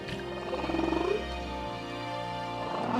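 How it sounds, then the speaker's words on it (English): Male humpback whale song recorded underwater off Hawaii: long, loud, moaning tonal calls that rise and fall in pitch, sounding close and resonant with no other voices. "the male humpbacks perform elaborate songs, which become the dominant source of sound underwater"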